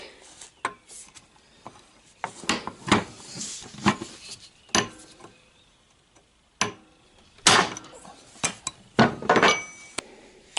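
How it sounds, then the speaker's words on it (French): Sharp metallic strikes of a big hammer on a drift punch while fitting a pedal assembly on a Citroën Traction 11 ring out in irregular bursts, some single blows and some quick clusters, with quiet gaps between. "muni d'un chasse et d'un gros marteau"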